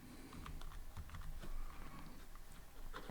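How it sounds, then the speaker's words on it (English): Keys clatter on a computer keyboard in a quick, irregular run of soft clicks while a short word is typed, close and fairly quiet, with no voice over it. "I can type here, let's say kiwi."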